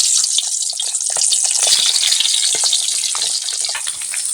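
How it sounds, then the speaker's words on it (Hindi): Boiled eggs fry in hot oil in a pan for egg curry, sending out a loud, continuous, crackling sizzle with fine spits and pops throughout. "तब हम इसको अच्छे से तलने देते हैं"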